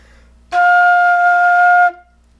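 A flute overblows into the high F an octave above the intended low F, giving a single bright, steady note held for about a second and a half, loud and alone.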